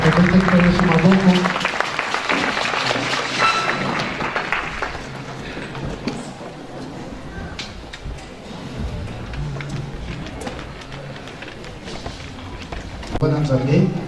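A church congregation clapping and cheering loudly at first. The applause thins into a long patter of scattered claps, with voices mixed in, and swells again near the end.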